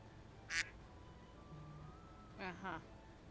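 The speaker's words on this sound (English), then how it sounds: "No quacking. The quackening is not allowed." Two or three short nasal duck quacks stand out over faint background hum, one quick call followed by a pair close together a couple of seconds later.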